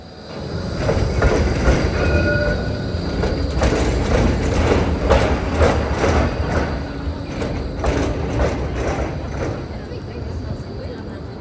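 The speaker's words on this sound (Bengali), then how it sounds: "মেলবার্নের লাইফলাইনই হলো এই ট্রাম" A tram rumbles past on its rails along Elizabeth Street in Melbourne's CBD, wheels clattering and faintly squealing, with constant street noise and murmuring voices around it.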